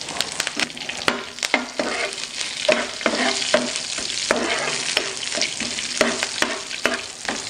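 Mustard seeds, cumin, curry leaves and green chilies fry in hot coconut oil, a close, steady sizzle broken by repeated scraping stirs and crackling pops throughout.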